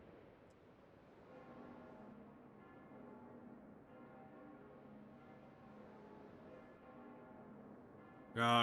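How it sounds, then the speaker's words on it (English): A sustained ringing tone in the game Fate Grand Order, heard alone as a steady, resonant hum with repeating pulses like a tolling bell, moderately loud and even throughout, ending in an abrupt burst. "I hear a bell ringing."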